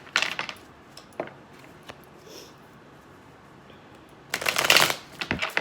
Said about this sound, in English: I'm just going to pull 2 cards, best advice for Pisces.